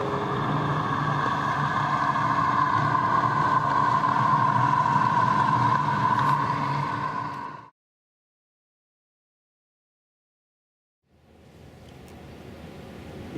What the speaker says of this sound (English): of a boat approaching